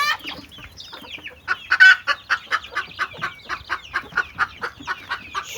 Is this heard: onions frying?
no